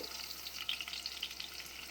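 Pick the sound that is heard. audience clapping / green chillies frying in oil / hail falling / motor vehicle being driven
green chillies frying in oil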